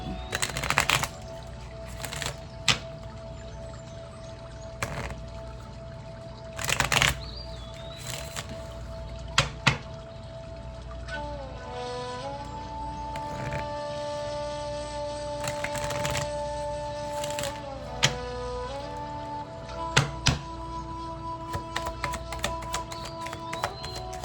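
Tarot cards being shuffled and tapped in bursts of riffling and soft slaps. A steady background tone with shifting pitches runs throughout.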